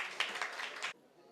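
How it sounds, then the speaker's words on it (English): A burst of applause from a round-table hearing audience of Nigeria's House of Representatives, dense clapping for about a second that cuts off abruptly into quiet. "Please, a round of applause."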